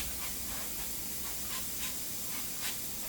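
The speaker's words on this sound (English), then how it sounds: "just gonna spray them a little bit more" A steady close hiss of cooking oil sprayed onto pork chops, with a few brief stronger spurts, continuous and fairly soft, no voices.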